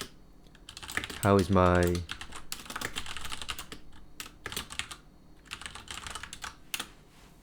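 Computer keyboard typing in a chat window, a run of quick clicks and clatters close by, with a person talking and a short voiced burst partway through.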